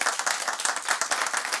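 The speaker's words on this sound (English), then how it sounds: "Round of applause," At an anniversary awards ceremony for a cystic fibrosis charity, an audience breaks into brisk, dense clapping that stays steady and fairly close throughout.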